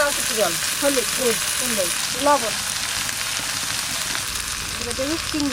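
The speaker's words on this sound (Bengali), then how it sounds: "মাছ ভাজা" Fish, hilsa, frying in hot oil in a home kitchen, giving a steady broadband sizzle throughout with a voice and other voices talking over it nearby.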